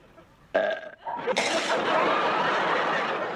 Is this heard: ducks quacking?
no